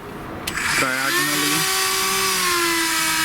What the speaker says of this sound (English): To cut this, I'm going to use my Dremel, and I have an end mill on there